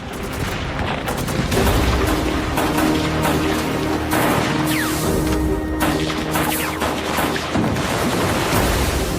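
Intense gunfire from a Korean War battle defending the Han River at night: dense, continuous volleys of rifle and machine-gun fire, loud and close throughout, with no speech.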